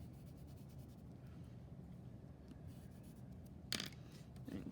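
A pencil colours on paper with soft, faint scratchy strokes that continue steadily, and one brief sharper scrape near the end.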